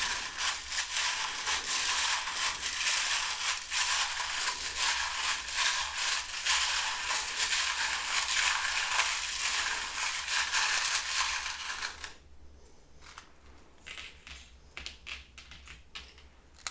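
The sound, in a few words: charms pulled from a metal charm tin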